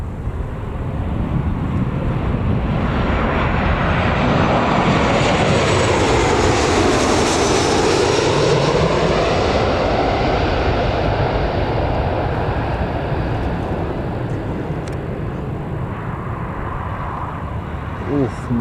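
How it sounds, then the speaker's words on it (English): A Ryanair jet airliner comes in to land at Newcastle Airport. Its engine roar swells loud and close, peaks as it passes, and then trails off in a long, broad rumbling whine. "And here's the Ryanair now, just about to"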